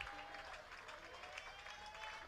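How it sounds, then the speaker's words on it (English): Faint, steady applause and cheering from a baseball crowd at Franklin Field during a championship series game, distant and continuous with light crowd murmur. "Crowd starts to come to life here at Franklin Field, being urged on."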